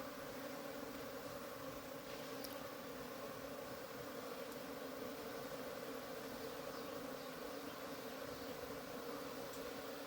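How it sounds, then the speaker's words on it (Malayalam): Honeybees swarm around a beehive in an open yard, making a steady, continuous droning buzz that holds evenly throughout with no voices. "പറമ്പിൽ ഈച്ചകൾ പോവുകയാണ്"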